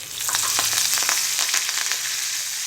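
Tempering seeds and dried red chillies dropped into hot oil left from frying eggs for egg pulusu, a loud, dense crackling sizzle with rapid popping that holds steady and eases slightly toward the end.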